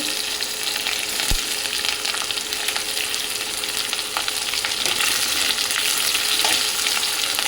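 Onion and green chilies fry in a pan with a steady, dense sizzle and crackle throughout, a sharp clank near the start from the utensil and faint stirring scrapes, with no talking.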